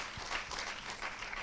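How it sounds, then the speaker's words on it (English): Brief, steady round of audience applause at a live conference, scattered clapping of moderate loudness honoring two people. "they are brilliant and we should give them applause"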